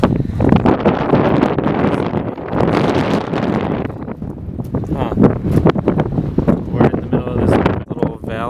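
Strong wind at a Utah campsite buffets the microphone in loud, continuous gusts with rumbling low roar throughout, a few brief voices mixed in.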